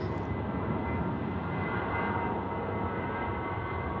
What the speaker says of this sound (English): Jetstar 613 going to Avalon now, departing with Aviation 4 on board.